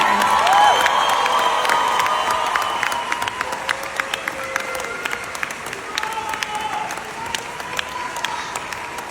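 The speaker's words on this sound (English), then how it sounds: "Let's give a big round of applause to Eva Palacio." Audience applause and cheering greet a guest welcomed on stage, a crowd clapping with some whoops and scattered sharp claps as it fades, while a voice talks over it.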